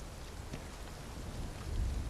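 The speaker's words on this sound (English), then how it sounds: "Acid rain." Acid rain in the Final Fantasy VII Rebirth video game, a steady soft hiss of rainfall with a faint low rumble beneath, quiet and continuous with no talking.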